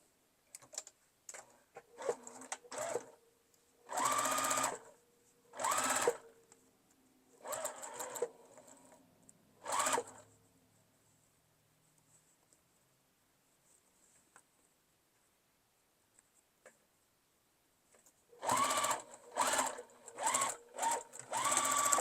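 A sewing machine stitches a quilted mug rug in short, rapid bursts of whirring and needle clatter, separated by pauses and a long quiet stretch before several final runs.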